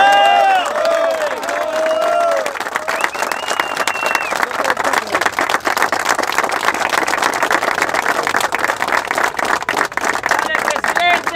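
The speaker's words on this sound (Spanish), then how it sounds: "Así que para ellos también un aplauso." A crowd applauds and cheers for campaign workers after a union election win, with a voice and whistles near the start before dense clapping swells and holds loud and steady to the end.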